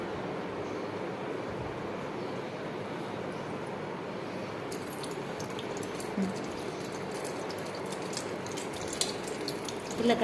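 Water drains and trickles out of soaked ragi (finger millet) tied up in a cloth bundle. A steady, soft watery hiss runs throughout, with faint scattered drips and clicks and no voices.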